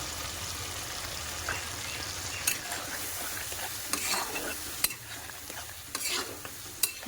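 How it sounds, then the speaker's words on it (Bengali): Spice paste with turmeric frying in a pan for a Bengali fish curry, a soft steady sizzle broken by scraping stirs and light clinks of the spoon against the pan. "মশলাটা অল্প ভালো মতন ফ্রাই হোক।"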